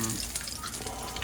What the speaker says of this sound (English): Speaking of frying, we're gonna drop that sucker in for about 10 seconds on each side